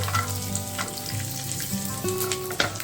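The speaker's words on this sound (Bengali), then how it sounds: "শুকনো লঙ্কাটা দিয়ে দিচ্ছি রসুন কুচি কাজু বাদাম" Dried red chilli, chopped garlic and cashews fry in hot oil with cumin, giving a steady close sizzle across the whole stretch with a few light clinks, and no voices.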